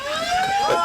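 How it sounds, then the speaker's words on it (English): A loud, close siren sounds at a country football ground to end the third quarter, holding one steady tone that bends slightly near its close. "that's the siren for the end of the third quarter"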